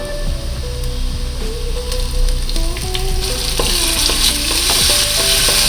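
Ginger and green chili sautéing in hot tempering oil with mustard seeds and cumin, a loud continuous sizzle and crackle with scattered ladle clinks throughout.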